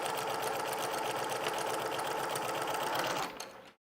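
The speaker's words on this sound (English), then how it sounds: "I'm just going to come over here and I'm going to sew" Sewing machine stitching a quilted pillow cover, a fast, steady mechanical whir with rapid needle clatter running close and continuous for about three seconds before stopping abruptly.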